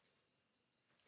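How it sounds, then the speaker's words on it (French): A wristwatch beeping: five short, evenly spaced high-pitched beeps in quick succession, quiet and alone. "J'ai une montre qui fait des bip bip."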